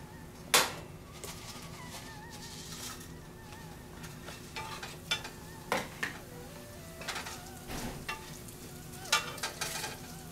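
Chinese pepper and red pepper stir-fry in a little leftover oil in a reused pan, a soft sizzle broken by sharp utensil scrapes and clinks against the metal at irregular moments. Fairly quiet and close, with no speech.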